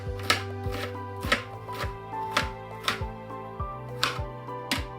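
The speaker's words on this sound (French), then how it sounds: "l'oignon, donc, je rappelle, je l'avais déjà dit, je le coupe en 3 parties, ensuite au milieu" A knife chops an onion on a cutting board in about ten sharp, evenly spaced strikes, close and clear, with a steady low hum underneath and no talking.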